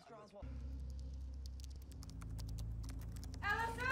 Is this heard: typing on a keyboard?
yes